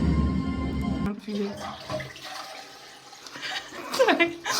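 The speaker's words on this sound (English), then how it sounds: "Did I just flush it?" Toilet in a Montpellier flat flushing and then still running, a steady rush and gurgle of water that goes on under nearby talk.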